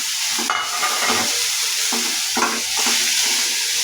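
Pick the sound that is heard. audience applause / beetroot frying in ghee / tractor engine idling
beetroot frying in ghee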